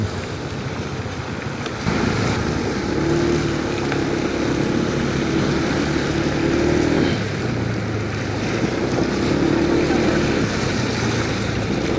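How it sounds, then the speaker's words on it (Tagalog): Steady rushing water of a strong, flood-swollen river current beside a bridge in CSJDM during a typhoon churns beneath broadband noise and wind buffeting the microphone, with a low motor-like hum drifting in and out. "Malakas yung agos sa kabila oh."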